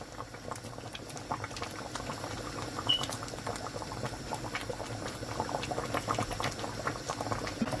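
Bitter leaf soup (ofe onugbu) with fish and crayfish boils in a pot, a soft continuous bubbling and popping heard close and fairly quiet.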